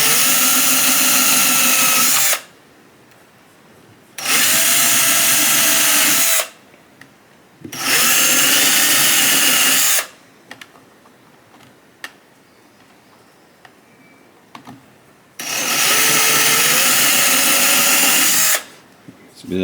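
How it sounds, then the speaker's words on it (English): A battery drill with a 2mm bit bores into HIPS plastic in four loud, steady whining bursts of a few seconds each, separated by quieter gaps with faint handling sounds. "I'm just going to use a 2mm drill"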